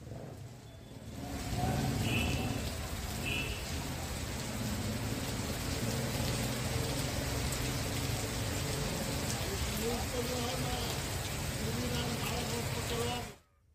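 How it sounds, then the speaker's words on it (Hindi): Heavy rain falls steadily during a strong windstorm near the India–Nepal border, a dense continuous wash of noise that holds at an even loudness for the whole stretch, with faint background sounds mixed in. "तो ये तस्वीर आपको दिखा रहे हैं जहां पर तेज आंधी के साथ बारिश हुई है"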